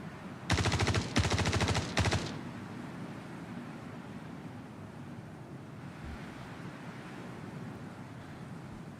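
Rapid automatic gunfire from AI enemies in Star Citizen, three loud close bursts in the first two seconds, then a low windy ambient hum.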